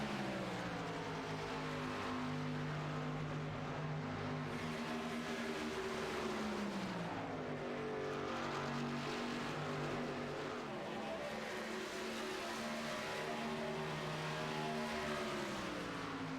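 Racing trucks in a 100-lap season opener at Charlotte roar around the track as a dense pack, their engines droning steadily with rising and falling pitch as they pass, loud and continuous throughout with no talking.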